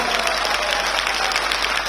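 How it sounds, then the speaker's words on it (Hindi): Sustained, dense applause from a large crowd greeting Delhi Chief Minister Rekha Gupta at an Odisha Day gathering in Delhi, loud and steady for the whole stretch with no break. "बहुत जोर ताली हो"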